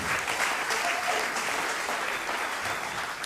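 A comedy club audience at the Throckmorton Theater claps steadily in dense, even applause that fills the room for a few seconds, with no voices over it.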